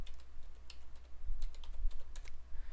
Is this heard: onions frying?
no